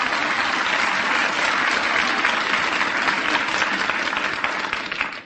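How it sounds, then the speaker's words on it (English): Studio audience at an old-time radio comedy show applauding a trombone player, a dense, steady burst of clapping from many hands that fades out at the end. "Let's have a little applause here for Miff."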